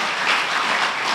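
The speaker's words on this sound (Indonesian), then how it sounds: "Beri tepuk tangan lagi untuk Tuhan kita" A church congregation applauds during a worship service, a dense wash of clapping hands with no voices, steady and fairly loud throughout.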